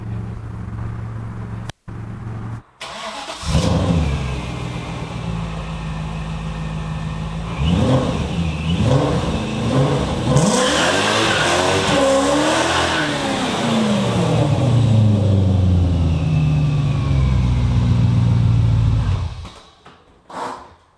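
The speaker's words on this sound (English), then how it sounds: "So I'm going to pull my 540 in the garage just ever so gently." BMW E34 540 V8 pulled slowly into a garage, engine idling then blipping and revving in rising and falling sweeps close by, with a brief cutoff near the start and the engine note fading out at the end.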